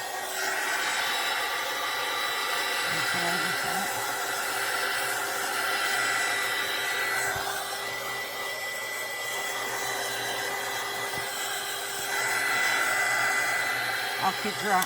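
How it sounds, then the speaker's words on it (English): A heat gun blowing hot air over a painted scrapwood craft piece, a continuous loud whooshing drone lasting the whole time with slight shifts in pitch as it moves, no speech over it. "take my heat gun. This should take no time at all to dry"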